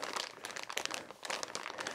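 Steady crinkling of a plastic parts bag from a Carten M210R RC car chassis kit handled up close, continuous rustling with sharp crackly bursts throughout.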